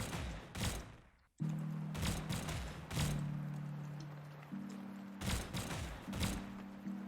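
Gunshots from the fighting video game Brawlhalla crack out as sharp, spaced bursts, roughly six over several seconds, over a sustained musical hum from the game.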